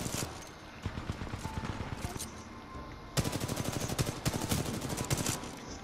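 Rapid bursts of gunfire rattle through a Titanfall 2 multiplayer match, dense repeated shots forming near-continuous volleys that grow louder midway, with occasional voices talking underneath.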